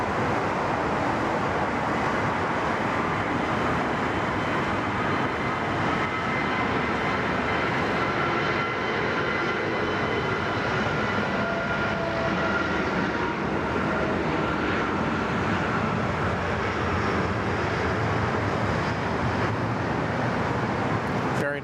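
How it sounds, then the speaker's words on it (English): Sustained roar of an airliner on its takeoff roll at Sydney Airport, a steady, broad rumble heard from a distance that holds at even loudness throughout without rising or fading. "Nice long takeoff roll there"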